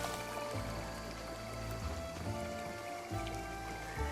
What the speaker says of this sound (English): Oh, it started raining, so that solves that problem.